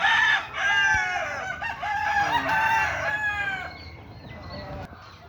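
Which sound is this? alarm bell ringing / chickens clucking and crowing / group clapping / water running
chickens clucking and crowing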